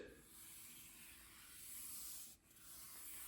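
Soft, steady rubbing of fingertips across a laptop's smooth coated surface, a quiet continuous hiss with a brief dip near the end and no talking.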